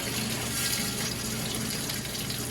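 A Philco solid tub washing machine filling with warm water for a full load, a steady close rush of flowing water with a low hum, continuous and even.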